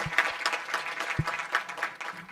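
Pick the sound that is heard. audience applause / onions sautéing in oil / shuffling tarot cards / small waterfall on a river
audience applause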